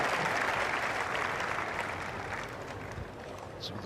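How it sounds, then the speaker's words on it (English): Generous crowd applause at a Monte Carlo tennis match, a dense steady patter of clapping from many spectators that fades slightly over a few seconds. "Some of the crowd clearly thought it was good from the generous applause"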